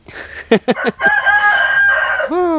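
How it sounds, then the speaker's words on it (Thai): A rooster crows once nearby, loud and drawn out, with a few short clucking notes from the bird just before the long call. "เสียงไก่ขันพี่น้องย่ามเทียง"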